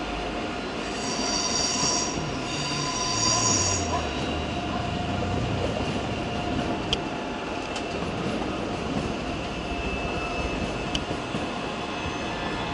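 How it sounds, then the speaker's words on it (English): ICE high-speed train passing near München Hauptbahnhof, a steady rolling rumble with high, brief wheel squeals near the start and some faint clicks, heard from the trackside without talk. "There's an ICE service."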